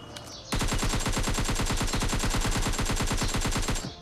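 A long burst of rapid automatic gunfire from a bot in PUBG Mobile Lite rattles loud and close for over three seconds after a brief quiet lead-in, its shots evenly spaced and unbroken.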